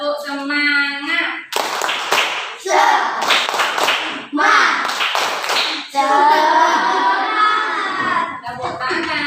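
Schoolchildren do the 'tepuk semangat' clapping game in class: several rapid bursts of hand claps blended with loud group chanting, followed by a teacher's voice carrying on talking.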